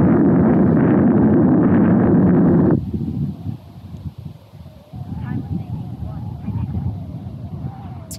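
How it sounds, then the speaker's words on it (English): Strong wind batters an outdoor microphone at a radio-controlled model flying session with an FMS Corsair F4U 800mm. A loud, steady roar lasts nearly three seconds, then drops to lighter gusty rustle with a thin motor whine. "I mean, it's just super windy."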